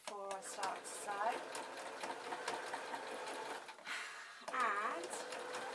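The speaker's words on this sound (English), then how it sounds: "Couple of strong stitches again before I start to sew" A sewing machine stitches elastic onto fabric in a broom-to-mop project, its motor whirring in short bursts and starting and stopping, close by, with faint talk over it.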